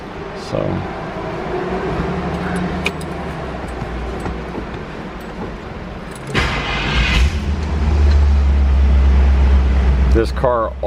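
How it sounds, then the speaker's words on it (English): A 1966 Cadillac Eldorado convertible is cold started: after a stretch of talk over quiet background, the engine cranks and fires into a loud, deep, steady idle close by, with brief clatter at the end. "I'm going to do a cold start video on the"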